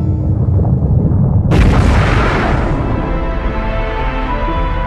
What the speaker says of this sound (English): This is the fireball of the hot Big Bang.